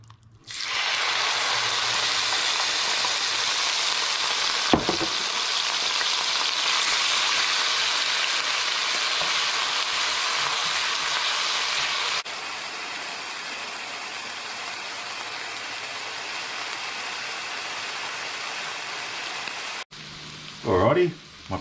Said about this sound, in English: So I'm just going to give that a bit of a fry off.